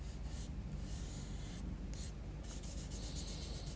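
A fingertip smudges and rubs soft pastel across paper, a close, steady dry scraping that continues without pause, with no voices.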